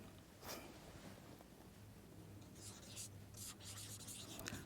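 Writing a sentence on a board during a Hindi grammar lesson, with steady scratchy strokes in bursts of rubbing over a low background hum, fairly faint and close.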